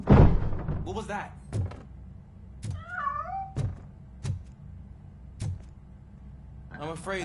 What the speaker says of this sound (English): I'm afraid this time it's a one-way street, Mr. Cat